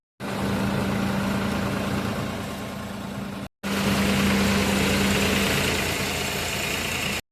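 Groundnut-cleaning blower machine running on a farm, a loud steady mechanical drone with a low hum, briefly cut off for a moment before resuming at full volume.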